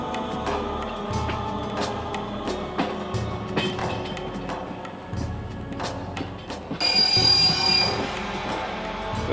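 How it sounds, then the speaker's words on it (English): A train brakes to a stop at a border crossing, its wheels squealing in long, shrill metallic whines over a rumbling, clattering carriage, loud and fairly close, with the squeal rising near the end. "That was just a train stopping somewhere at the border."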